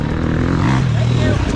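A dirt bike passes on a Crow Canyon trail, its engine buzz rising and falling pitch as it goes by close, loud throughout under a nearby 2021 KTM 300 XCW two-stroke idling.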